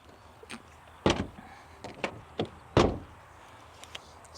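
A 1999 Nissan Elgrand's driver's side door handled in a few sharp mechanical clunks and latch clicks, two louder thumps standing out among lighter clicks, close and with no talking.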